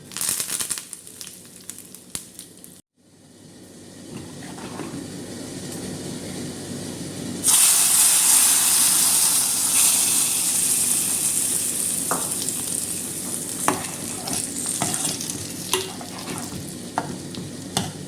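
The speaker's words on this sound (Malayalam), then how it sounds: "രണ്ട് മൂന്ന് വറ്റൽ ഫ്ലെയിം നന്നായിട്ട് കുറച്ച് വയ്ക്കാം നമുക്ക് കറിവേപ്പില ചേർത്ത് കൊടുക്കാം" Curry leaves and dried red chilies hit hot oil on a lowered flame for a sweet mango pulissery, and a brief pause is followed by a loud, continuous spattering sizzle with clinks and scraping of a utensil against the pan.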